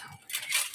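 Stainless steel spoons from a Marwa 30-piece cookware set clink briefly against each other, a short bright metallic rattle up close with no talk.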